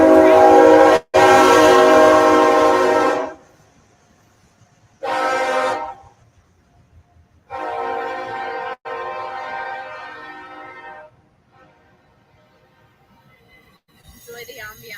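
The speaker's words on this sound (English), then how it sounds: "This is train number 2." A passing train sounds its horn in several loud blasts: a long one of about three seconds, a short burst, then a longer sustained call, with quiet rumbling gaps between.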